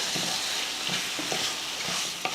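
Spicy egg masala is stirred in a pan, a spoon scraping in a few distinct strokes over a soft, steady sizzle of frying, close up with no voices.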